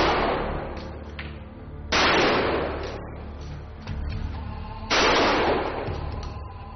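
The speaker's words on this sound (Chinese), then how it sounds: "那么用霰弹枪射击是什么感觉呢？" A shotgun fires during a shooting demonstration: three loud, booming blasts a couple of seconds apart, each with a long rumbling, decaying tail.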